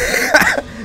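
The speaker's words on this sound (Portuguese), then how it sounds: "Minha tosse até atacou." A single short cough, close and fairly loud, from a person playing the arena fighting game Gladihoppers on a phone, with no talk over it.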